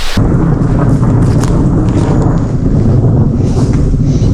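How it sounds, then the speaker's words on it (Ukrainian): Thunderstorm with heavy rain in Ukraine's Sumy region, heard as a loud, continuous, close roar of downpour and buffeting wind that stays dense and unbroken throughout, with no voices. "Це ж гроза, я так розумію"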